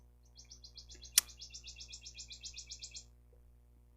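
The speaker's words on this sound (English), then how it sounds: "we're a very loud bird outside the window here." A bird outside a window gives a quick run of high, repeated chirps lasting a couple of seconds. It is faint against a low background hum, with one sharp click partway through.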